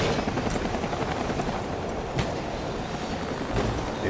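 A helicopter's steady rotor thrum in Max Payne 3 fills the whole stretch, loud and continuous, with no voices over it.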